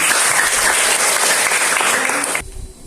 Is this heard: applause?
yes